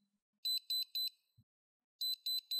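Two sets of three quick high-pitched electronic beeps from the alarm clock of a DKG-21 EcotestCARD dosimeter, separated by a brief pause, clear and close in an otherwise quiet setting.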